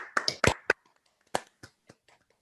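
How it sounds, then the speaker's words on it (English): Scattered claps at a hackathon awards ceremony, a few sharp close hits at first, then sparse isolated claps trailing off, brief and thin rather than a full crowd ovation. "Big applause."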